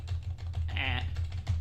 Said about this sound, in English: You hear that keyboard smash? That's the sound of being rich.